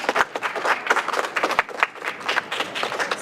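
A crowd claps at a press conference at UC Berkeley, a dense, steady burst of applause lasting a few seconds.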